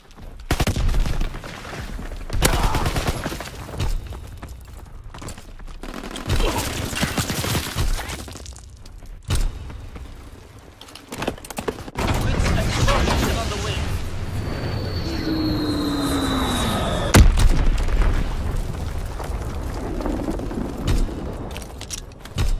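In Call of Duty WWII, an enemy aircraft makes a strafing run, bringing dense bursts of gunfire, cracks and booms over a roaring engine sweep. The battle sounds are loud and continuous, with game voices calling out over the chaos.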